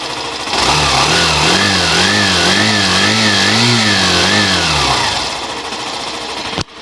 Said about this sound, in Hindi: गाड़ी को स्टार्ट कर लेते हैं, साउंड फाइनली हम सुन लेते हैं